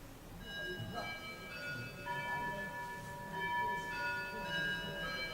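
Bells ringing: several clear, sustained metallic tones strike and overlap in a loose sequence, fairly quiet, with faint room murmur and voices in the background.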